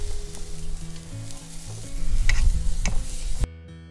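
Porterhouse steak sizzling on a Tuscan grill over the fire, loud crackling and popping with a few sharp spits, ending abruptly into quiet.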